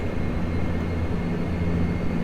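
Turboprop drone of a Bombardier Q400 airliner on night landing approach to Gibraltar in the FSX flight simulator, a steady low hum holding at even loudness throughout with no talk over it.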